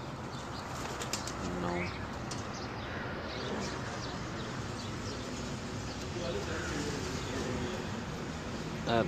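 Pigeons on a rooftop make soft, faint coos and brief bursts of wing flapping amid steady outdoor background noise, with someone talking now and then.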